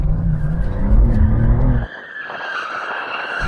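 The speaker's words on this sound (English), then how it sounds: "if there's one thing BMWs can do, it's drift" A BMW M2 Competition drifts with a loud, sustained tyre squeal over a revving engine for about two seconds, then the sound cuts back to a quieter engine note and fading tyre hiss.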